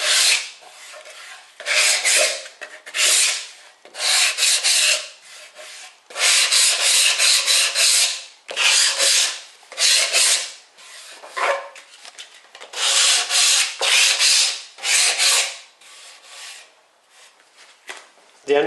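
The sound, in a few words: light sanding of MDF surfaces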